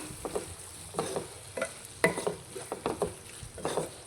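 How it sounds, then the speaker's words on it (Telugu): A spoon stirs potato curry with tomato in a pan, giving repeated scraping, clattering strokes roughly every half second over a low sizzle, close and fairly quiet, with no voices. "సరిపోతుందండి కర్రీకి అంతా ఒకసారి బాగా కలుపుకోవాలి"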